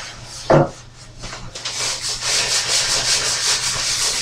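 Hand sanding of a claw-foot bathtub with small kitchen-style sanding sponges: a loud rasp up front, then steady back-and-forth abrasive scrubbing strokes that continue close to the mic, with no talking.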